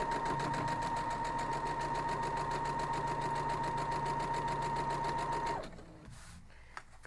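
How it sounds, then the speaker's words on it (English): A sewing machine stitches a maple leaf quilt block in a steady, fast mechanical whir with a rapid even needle rhythm, running close and loud for about five seconds before stopping abruptly into quiet handling noise. "So let's go to the sewing machine."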